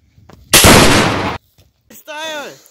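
A single loud gunshot cracks out as a sharp burst that decays into a short rumble, followed after a pause by a brief voice.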